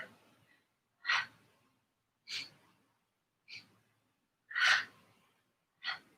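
A person exhales in a Pilates breathing exercise: six separate, breathy bursts of air about a second apart, close and moderately loud, with quiet pauses between and no talking.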